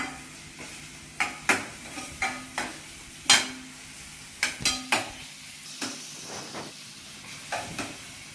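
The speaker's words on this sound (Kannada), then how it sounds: "ಸ್ವಲ್ಪ ಉಪ್ಪು ಹಾಕೊಂಡು ಫ್ರೈ ಮಾಡ್ಕೊಳ್ತೀನಿ" Prawns fry with salt in a pan, giving a steady sizzle broken by a series of sharp scraping and stirring knocks that recur every second or so, close and moderately loud.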